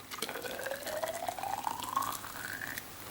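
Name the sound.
pouring boiled water into beakers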